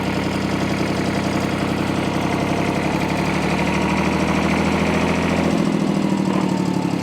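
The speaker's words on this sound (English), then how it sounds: "We'll start off in first gear. It's a 5-speed transmission on the P133, 42 horsepower." A 1957 Porsche P133 diesel tractor with a 42-horsepower engine and five-speed transmission drives in first gear, its engine a loud, steady, close knocking chug that holds throughout.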